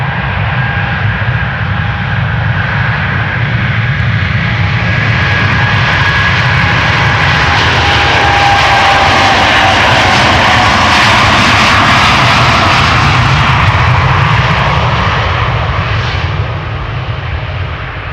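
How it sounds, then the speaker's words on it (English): A KLM Boeing 787-10 Dreamliner, three years old, takes off from the Polderbaan runway at Amsterdam Schiphol, a loud and continuous jet engine roar with a steady rushing rumble and faint whining tones that swell and then ease slightly. "Obviously a Dreamliner taking off here to Las Vegas."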